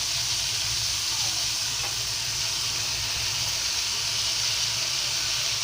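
Amaranth leaves (thotakura) going into a hot pan, giving a loud, steady, broadband sizzle and hiss that holds evenly throughout without pauses; no talking.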